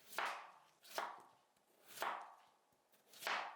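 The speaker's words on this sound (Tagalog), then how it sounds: "Hihiwain natin para mabilis lumambot ito." A knife chops through peeled potatoes on a board in four separate, evenly spaced strokes, close and fairly quiet, with no talking.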